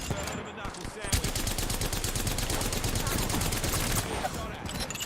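Gunfire in a battle-royale style video game, a dense, loud burst of rapid shots running almost continuously, sitting close and filling the scene throughout.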